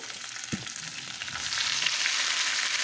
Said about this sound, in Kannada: ಸಾಸಿವೆ ಜೀರಿಗೆ ಹಾಕೋಬೇಕು ಇದು ಸಾಸಿವೆ ಸಿಡಿದ ಮೇಲೆ ಇದಕ್ಕೆ ಕರ್ಬೇವಿನ ಸೊಪ್ಪನ್ನು ಹಾಕಿ